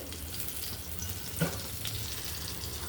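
Mustard seeds, cumin, garlic and green chillies frying in hot oil, a steady close sizzle with a faint low hum beneath and one small clink partway through.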